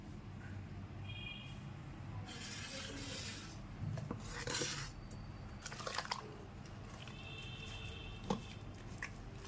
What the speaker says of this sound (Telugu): ఇప్పుడు దీన్ని పప్పు గింజతో మనం మెదుపుకుందాం